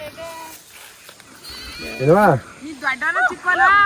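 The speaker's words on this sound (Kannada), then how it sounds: "ಇಲ್ಲಿ ಗೈಸ್ ಕುರಿ ಎಲ್ಲ ಹೆಂಗ್ ಮೇಯ್ತಾವೆ ಇಲ್ಲಿ" Sheep grazing beside village paddy fields bleat loudly and close in several wavering calls, with quieter background sounds before them.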